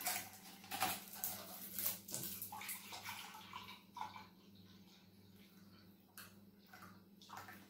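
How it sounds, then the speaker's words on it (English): Milk poured into a glass at breakfast, an irregular soft splashing and gurgling pour that trails off into scattered drips, fairly quiet and close. "I have my glass of milk, so I'm going to fill it with my milk now."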